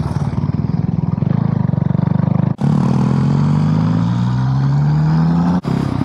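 A motorcycle engine drones steadily while riding mountain roads through conifer forest in the Alps, with a brief gear-shift break and the pitch climbing as it accelerates, loud and close.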